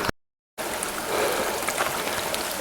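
Water flows beside the Yosemite Falls trail in a steady, moderately loud rushing wash that starts after a brief gap of silence and stays even throughout.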